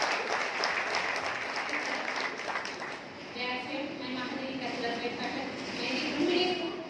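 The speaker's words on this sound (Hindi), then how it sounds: "प्लीज जोरदार तालियां" Loud audience applause at a business gathering in Chhatrapati Sambhaji Nagar, continuous clapping throughout with voices talking over it in the second half.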